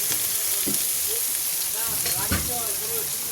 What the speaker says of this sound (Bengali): আদা তো ভাজা হয়ে গেছে ফেন বেরিয়ে গেছে